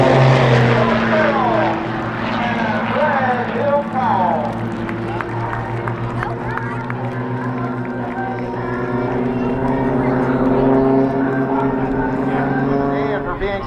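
Propeller airplanes of an aerobatic team drone steadily as they approach for landing at an armed forces day air show, a continuous engine hum under a public-address announcer and crowd noise.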